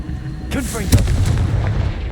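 A Confringo spell explosion in Hogwarts Legacy goes off with a loud, sharp blast, with a brief whooshing build-up just before it and a rumbling tail afterward.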